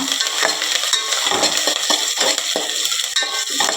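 Onion and curry leaves fry in a pan with peppercorns, cloves, cardamom and bay leaf for vegetable rice, a constant loud sizzle broken by rhythmic scraping strokes of a stirring utensil.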